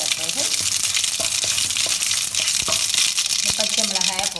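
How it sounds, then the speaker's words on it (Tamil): Mustard seeds spluttering in hot oil in a pan for tempering curd rice, a dense, close sizzle broken by sharp pops and crackles, with faint voice-like sounds mixed in. "சட்டி வச்சு எண்ணெய் சூடு விட்டு நான் இப்போ இந்த கடுகை போடுறேன்."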